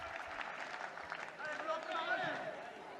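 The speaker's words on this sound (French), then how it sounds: "Sous les applaudissements notamment des jeunes du club avoisinant" Stadium crowd applauding at a women's football match between Girondins de Bordeaux and Paris FC, a steady broad wash of clapping and crowd noise that swells slightly midway, with a commentator's voice faintly present.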